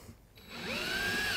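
A power drill bores into a wooden bike ramp, its motor whining up in pitch from a quiet start into a steady, close high-pitched drone, with no talking over it.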